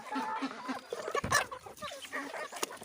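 Chickens and ducks at a poultry farm eat homemade feed grain, heard as steady close clucking and pecking with soft scratching through the clip and a brief louder burst near the middle.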